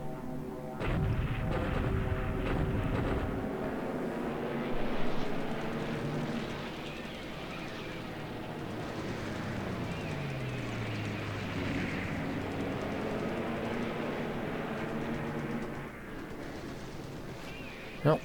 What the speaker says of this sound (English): Allied dive bombers outside Port Moresby.